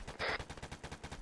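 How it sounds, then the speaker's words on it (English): Heavy gunfire in a military video game: rapid automatic bursts rattle in a steady rhythm of about ten sharp reports in just over a second, fairly close and dense, with no speech over them. "There's heavy fire up here."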